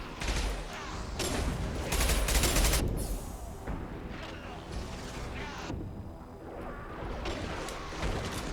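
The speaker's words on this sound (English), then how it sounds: "That was a rocket in my face hole." A rocket explosion in Mass Effect 2 lands amid a loud gunfight, a heavy crashing blast near the two-second mark among rapid shots and clatter, with talk over the action.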